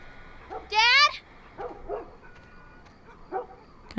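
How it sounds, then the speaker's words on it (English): A dog in The Last of Us Part 1 lets out a sharp high yelp followed by a few softer whimpering barks, close and brief against a quiet game background. "Can I see the dog?"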